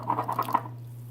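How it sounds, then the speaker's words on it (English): Fermenting frozen mixed berries release a brief cluster of faint, close fizzing bubble pops, about five soft pops in half a second over a low steady hum, then near silence. "let's see if we can hear some bubbles"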